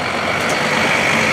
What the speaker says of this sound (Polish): Autobus się ominął